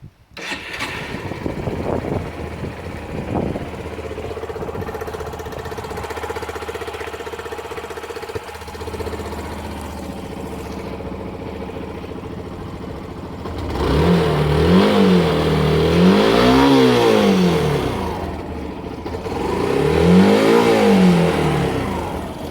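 A 2011 Yamaha YBR motorcycle engine starts and settles into a steady idle, then is revved twice in rising and falling sweeps near the end, heard close up with no talk.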